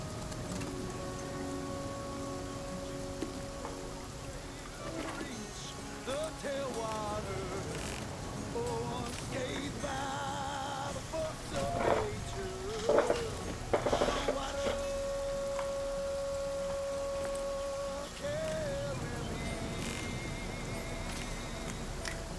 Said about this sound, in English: Rain can let up any time.